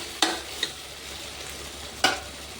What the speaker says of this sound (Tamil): நம்மளுக்கு வெங்காயம் தக்காளி வதங்கிடுச்சு